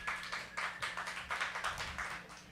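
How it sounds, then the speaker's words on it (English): An audience at a live talk event applauds, a short burst of quiet clapping from several people in a steady patter that fades after a couple of seconds, with no talk. "Round of applause for Train"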